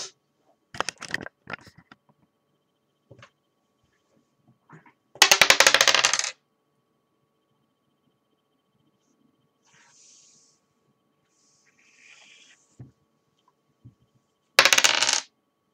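Dice rolling and clattering across a surface, two loud rattling bursts a few seconds apart plus a brief earlier flurry of small clicks, with quiet stretches and faint stray noises between.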